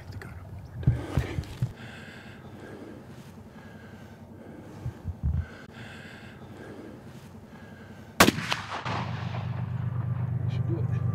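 A single loud hunting rifle shot cracks out in an open outdoor Wyoming setting, followed by a rumbling echo, after quiet handling noises and faint murmured talk.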